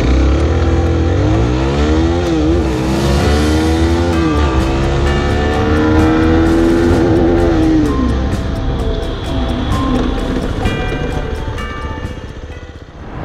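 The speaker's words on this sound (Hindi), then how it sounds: "इस बाइक का 0 टू 100 और 100 टू 0 आपको करके दिखाएंगे" A Zontes ZT310 R motorcycle with dual mufflers accelerates hard from 0 to 100, its loud engine note climbing through several gear changes, then easing off as it slows down again.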